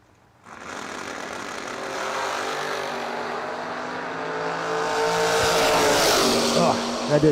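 A 1971 Ford Maverick and a 1967 Camaro launch down a drag strip at a bracket racing event, their engines rising into a loud, building roar with a brief tire squeal as an announcer talks over them.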